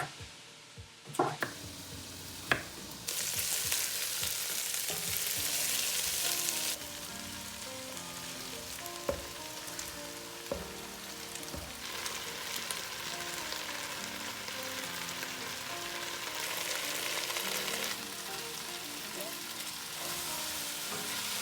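Food fries and sizzles steadily in a pan while being stirred and mixed, with a few sharp clatters of utensils near the start and a continuous hiss running throughout.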